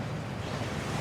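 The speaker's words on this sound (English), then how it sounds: "That waterfall washes away all enchantments." Steady rushing water from a waterfall in the video game Hogwarts Legacy, a continuous broad wash of noise holding even and fairly close for the whole second, with no voices.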